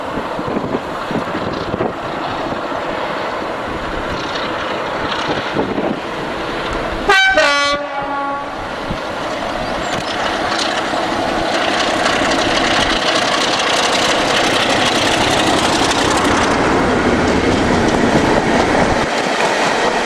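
British diesel locomotive 33207 hauling former Anglia DBSO coaches from Eastleigh to Derby, a loud sustained engine roar and rolling rail noise with a short horn blast near the middle, wind buffeting the microphone.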